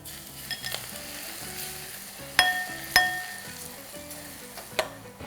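Hot oil is poured onto chopped chili, minced garlic, white sesame, chili flakes and scallion, giving a steady soft sizzle and crackle, with a few sharp clinks of a utensil against the bowl, and no one talking.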